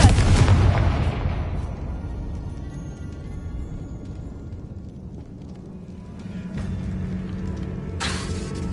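A Confringo blasting spell in Hogwarts Legacy erupts in a loud, close explosion with a heavy booming onset that rumbles away over several seconds, then a second sharp burst flares near the end.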